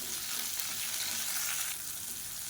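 Garlic, green chilli and tomato sauté in hot oil for a shallot and coriander chutney, giving a steady, close, even sizzle and crackle with no talking.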